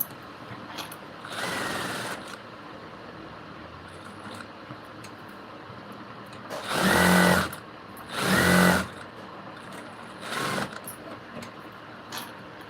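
A sewing machine stitches a blouse in short separate bursts, with three or four runs of a couple of seconds each between quieter pauses, all fairly close and without talk.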